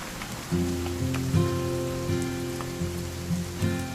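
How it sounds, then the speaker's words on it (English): Steady rain in What Remains of Edith Finch, a soft continuous patter beneath a sustained, tonal musical passage of held notes that shift in steps over several seconds. "It's gonna rain the whole weekend"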